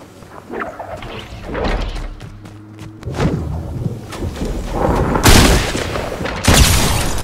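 Gunfire in Fortnite Season 8 cracks out in several separate bursts across a few seconds of gameplay, with sharp booming shots that grow louder and denser toward the end.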